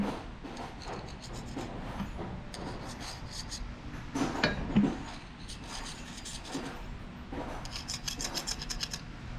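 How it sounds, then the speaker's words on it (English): Strips of 600 grit sandpaper are drawn back and forth over the crankshaft journals of an engine damaged by running at 4,000 RPM without oil pressure, making a steady, close rasping rub with brief louder strokes and no talk. "So we are taking some 600 grit sandpaper strip"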